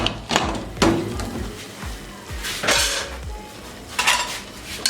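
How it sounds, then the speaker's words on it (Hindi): A metal lid comes off a cooking pot of chickpea shorba, a few sharp clanks and scrapes of metal against metal spaced over several seconds, close and clear with no voices. "अब ढक्कन हटा लेंगे।"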